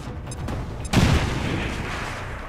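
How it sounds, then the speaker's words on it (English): A grenade explosion in the video game XCOM 2: a single sudden, loud, deep blast about a second in, followed by a rumbling decay of debris, after a brief quieter lead-in. "So let's start with the grenade down there."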